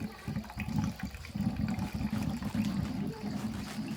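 Whey water from fresh homemade lor cheese curd being squeezed out by hand, a steady loud wet splashing and trickling into a bowl that runs continuously with a few brief dips.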